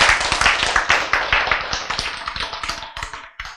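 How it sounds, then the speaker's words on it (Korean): Audience clapping at a Korean sermon, a fast, loud, rhythmic run of sharp, close claps that taper off and stop near the end. "박수!"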